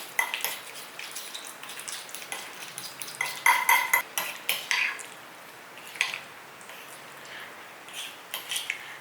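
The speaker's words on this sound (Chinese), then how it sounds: "把它搅拌均匀" Mashed pumpkin being stirred with lotus root starch in a bowl, heard as a close run of soft scraping, clinking utensil strokes against the dish, uneven and intermittent with no talking.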